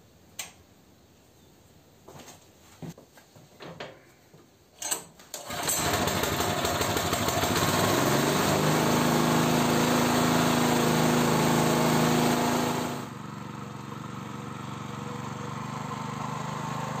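A walk-behind tractor (motoblock) engine fitted with a new starter: a few knocks and clicks, then the engine catches and runs with a loud, steady buzzing drone, and it drops to a quieter idle near the end.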